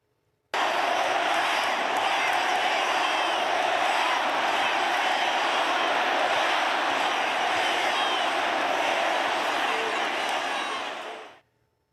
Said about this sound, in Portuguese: Olha o que a torcida cantava no meio do jogo de Campeonato Brasileiro.